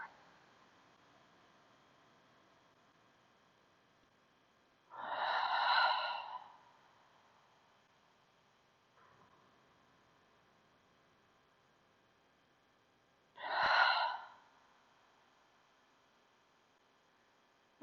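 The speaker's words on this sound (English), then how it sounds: "continue breathing however feels best, whether it's in and out through your nose or your mouth" Two slow, deep breaths a few seconds apart, each a breathy, airy exhale through nose or mouth during a yoga session, close and alone against near silence, with a faint soft inhale between them.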